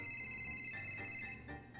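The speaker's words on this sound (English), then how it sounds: "I answer the phone" A telephone ringing with steady tonal ring bursts at moderate volume over a low background hum, with no talking.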